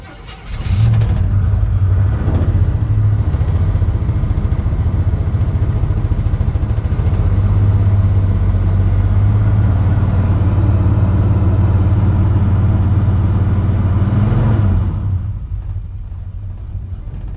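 A 1972 Chevrolet C10 engine runs loud and close at a steady idle with a deep rumble, with a brief rev early on, then the sound drops off near the end.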